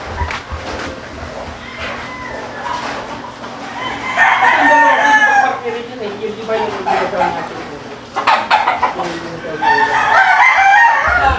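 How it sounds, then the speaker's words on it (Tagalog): Several roosters from a game farm's gamecock stags crow repeatedly in a loud, nearby flock, calls overlapping with scattered clucks while someone talks over them throughout. "Pakita ko sa inyo yung mga manok."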